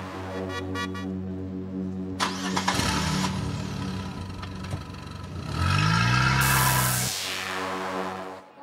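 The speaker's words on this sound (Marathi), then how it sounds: "ड्रायव्हर, अरे चला गाडी काढा" A car engine cranks, catches and starts, then revs up briefly before settling. The sound is close and loud, with no talk over it.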